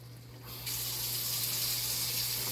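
Tap water running steadily into a pan of browned meat and seasonings, a continuous gushing pour that starts abruptly and stays even and close, with no talk.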